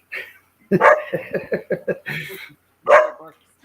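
A dog barks and yips in a quick series of sharp, close barks, with a pause before a final bark.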